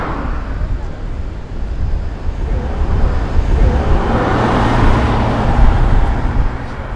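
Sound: passing vehicles on a coastal road

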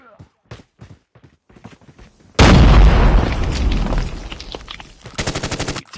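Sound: grenade explosion in Call of Duty Mobile video game

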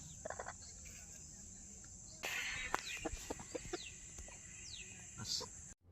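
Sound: rooster clucking

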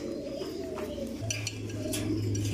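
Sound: racer pigeons cooing at a pigeon farm

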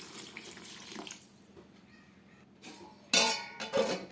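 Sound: water being poured into a pan of soybean curry

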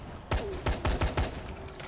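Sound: gunfire in video game

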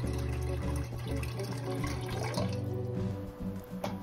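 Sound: water being poured into a large pot

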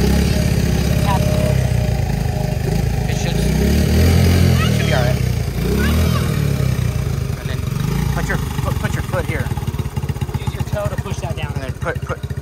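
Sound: motorcycle engine revving while learning to shift gears

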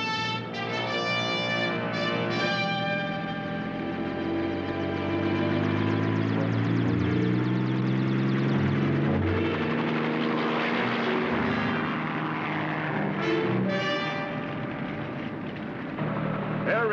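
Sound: helicopter flying

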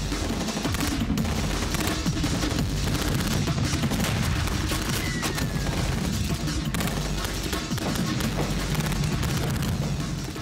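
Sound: machine gun fire in a battle

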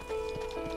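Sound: horse clip-clop in the video game Red Dead Redemption

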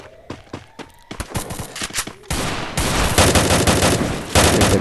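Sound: AN-94 rifle gunfire in Free Fire video game

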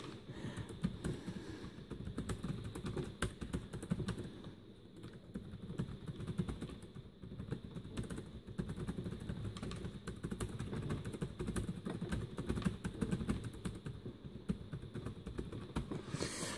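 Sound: typing on ASUS Transformer Book T100HA keyboard

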